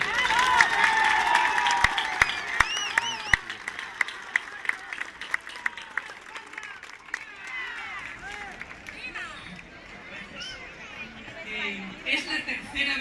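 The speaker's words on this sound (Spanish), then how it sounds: "daros un aplauso a todos vosotros por celebrar con Madrid" A crowd at an outdoor civic celebration in Madrid claps, with sharp individual claps and chatter beneath talk, while chirping, whistling tones rise and fall throughout.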